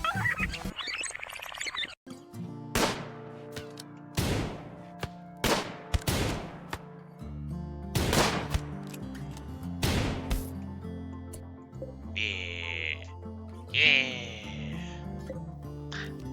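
Gunfire in RimWorld as a lone raider is shot down: a burst of sharp cracks, several spaced shots over a game music bed, with brief high electronic tones near the end.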